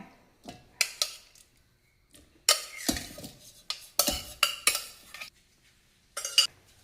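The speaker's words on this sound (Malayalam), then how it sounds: "ഇതൊരു മിക്സിയുടെ ജാറിലേക്ക് മാറ്റാം" Cooked pumpkin and carrot are spooned into a mixer jar, producing a series of sharp clinks, taps and scrapes of a utensil against the jar in irregular close bursts.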